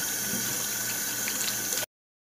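Peeled cassava rinsed under a running kitchen tap, a steady hiss of flowing water splashing over the root for nearly two seconds before cutting off abruptly.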